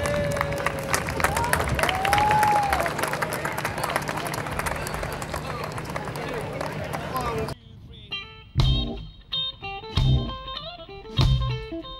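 Crowd applause and cheering welcome a blues band at the Tomate Blues festival, a dense roar of clapping for several seconds that cuts off abruptly, followed by a few separate loud struck hits.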